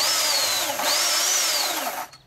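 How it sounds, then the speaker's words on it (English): An electric chainsaw runs at a steady high whine for about two seconds, loud and close, with a slight pitch dip partway through before it cuts off. "I also have an electric chainsaw"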